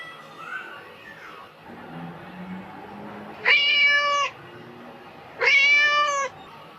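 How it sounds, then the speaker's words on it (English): Two clear kitten meows, each a bright harmonic cry lasting under a second, sounding close and alone after a stretch of quieter, indistinct background. "Kitten. Kitten means बिल्ली का बच्चा."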